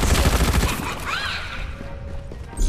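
Gunfire in the battle-royale video game Farlight 84, a dense burst of rapid shots loud at the start, then fading into quieter game effects and a thin tone, with a brief louder hit near the end.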